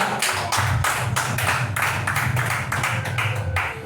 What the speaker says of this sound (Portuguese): Aplausos para o nosso Deus, amada igreja